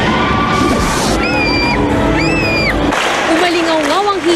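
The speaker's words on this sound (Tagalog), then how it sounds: "Umalingaw-ngaw ang hiyawan at palakpakan sa Araneta Coliseum sa pagtatanghal ng Chinese National Acrobatic Circus." A large crowd at an acrobatic circus show in Araneta Coliseum cheers, whoops and yells loudly throughout, with high children's shrieks rising above the roar and a voice speaking over parts of it.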